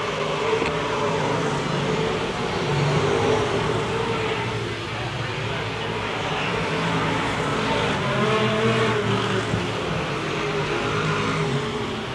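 Race cars roar around the oval at Petty Raceway during the GM Goodrich Service Plus 150, a dense, continuous engine drone with passing swells, loud and steady throughout with no talk.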